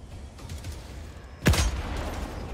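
Gunfire in the video game Helldivers 2, a single sharp, loud close shot with a booming low tail after quiet background ambience.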